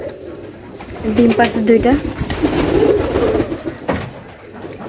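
Serazi pigeons coo steadily in a straw-lined loft, their soft, throaty calls rising and falling under someone talking nearby.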